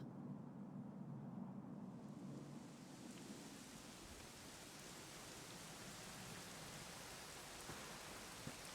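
Steady rain pours down in a video game, a dense hiss of drops with occasional low rumbles beneath, continuous and fairly loud throughout.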